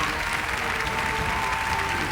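Audience applause at a musical anniversary show, a steady wash of clapping from a large crowd with a faint tone running beneath it.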